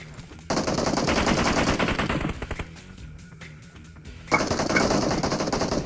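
Automatic gun spray in PUBG Mobile comes as a dense, loud, sustained burst of rapid gunfire that pauses briefly into scattered single shots, then resumes as another heavy burst.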